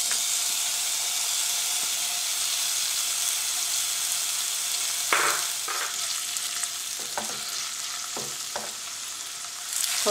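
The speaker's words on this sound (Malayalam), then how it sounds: "ഇതിലേക്ക് 15 ചെറിയ ഉള്ളി ചതച്ചത് പിന്നെ ഒരു 5 വെളുത്തുള്ളി ചതച്ചത് ഒരു ടേബിൾ സ്പൂൺ തേങ്ങ കൊത്തി അരിഞ്ഞത് ഇത്രയും ഞാൻ ചേർത്ത് കൊടുക്കുകയാണ്" Crushed shallots, garlic and chopped coconut frying in hot oil in a pan for a Kerala-style koorkka (Chinese potato) stir-fry, giving a steady loud sizzle with bursts of stirring and scraping and no voices.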